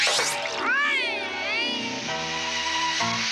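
A cartoon cat in a Smurfs fairy episode lets out a long, rising and falling meow followed by a shorter warbling cry, loud and close, with a voice joining at the end.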